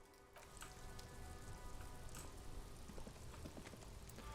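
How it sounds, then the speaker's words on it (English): Rain patters faintly and steadily on surfaces outdoors, a soft, even hiss scattered with scattered drops, with no talking. "It's raining again."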